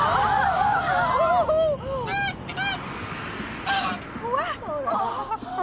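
A goose honks repeatedly at close range in loud bursts of varied pitch, with background babble running under the calls.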